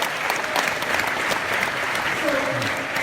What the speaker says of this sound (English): Let's clap it up for the youngsters.